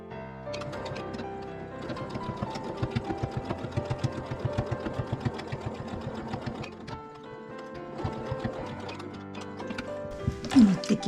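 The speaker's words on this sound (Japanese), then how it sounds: "裏を中にしてここをもう一度端ミシンをかけます。" A sewing machine edge-stitches the seams of a patchwork hexagon tote bag in quick rhythmic bursts of needle clatter, pausing and restarting a few times.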